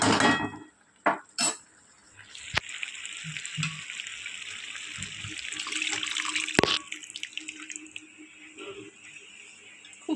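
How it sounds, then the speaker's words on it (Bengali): Water pours steadily into a pot of partly boiled chana dal for a few seconds, framed by a few sharp metallic clinks of kitchen utensils before and after, close and fairly quiet. "চলো এবার দিয়ে দেবো পরিমাণ মতো জল।"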